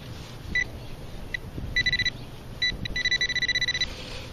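Short electronic beeps from an XP Deus metal detector sound in bursts over an iron target in a dig-hole sidewall, a few single chirps then rapid repeated pulses, over a low rustling background.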